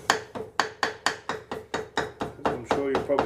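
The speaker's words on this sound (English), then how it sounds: "gently with the hammer" A hammer taps a gasket on a Lister JP3 genset water pump in a steady, even rhythm, about a dozen close, crisp strikes in a row.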